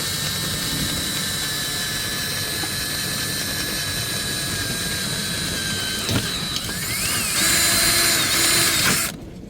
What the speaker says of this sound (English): when I pop through this aluminum, I don't hit the glass and break it with the drill bit